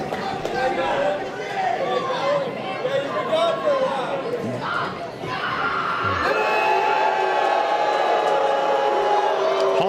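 Wrestling crowd at a Capital City Wrestling match, a steady roar of chatter, shouts and scattered cheers from a packed venue, swelling slightly after a brief dip mid-way and continuing loud throughout.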